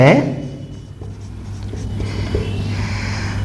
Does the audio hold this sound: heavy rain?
no